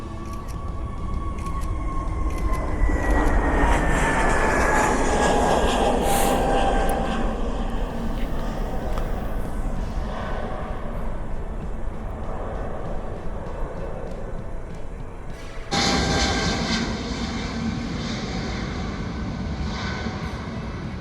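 Jet airliner at Cochin International Airport roaring past close by, engine whine and rumble building then sweeping down in pitch, followed by a sudden fresh surge of engine noise near the end, no talk.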